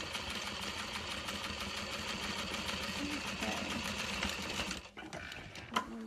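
A sewing machine top-stitches a vinyl handbag with a steady, close, rapid mechanical whir that stops near the end, followed by a few small handling clicks.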